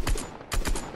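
Gunfire in Fortnite, two quick bursts of shots about half a second apart, fairly loud and close, with no talk over them.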